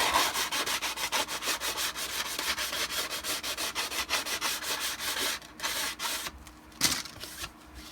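Sanding-style rubbing along the edge of a plastic armor part for a Shadow Trooper costume build, a steady, close scraping rasp repeating in quick strokes for several seconds, then slowing into a few sparse final rubs, with no talking.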